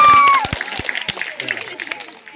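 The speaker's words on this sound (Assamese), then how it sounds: "এটা হাত তালি দিয়া" Scattered clapping from an audience at a student prize distribution, a few sharp claps then a patter of hands, close and fairly loud with a voice briefly heard at the start.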